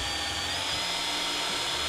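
A power drill bores into an aluminum carburetor slide, a loud, close, continuous whine with pitch dips as the bit bites under pressure.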